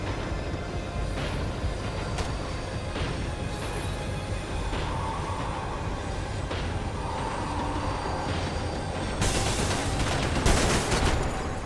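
A train runs in the game Max Payne 3, a constant low rumble of wheels and carriage noise with occasional sharp clanks and a louder rattling burst near the end.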